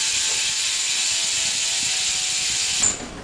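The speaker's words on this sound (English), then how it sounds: "And this is how this bike sounds." BMX bike freewheel ratchet clicking in a rapid, even buzz, close and continuous before fading at the end.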